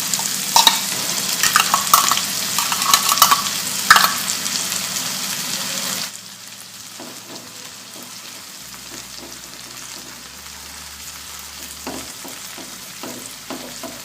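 Corned beef frying and stirred in a pan with sizzling and scraping, loud and busy for the first six seconds, then dropping to a quieter, sparser sizzle with occasional clinks.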